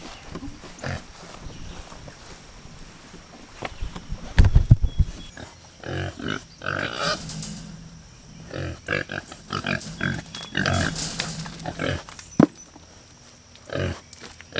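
Pigs grunt and snort in irregular bursts, fairly close, with scuffling and shuffling noises around them and no talking.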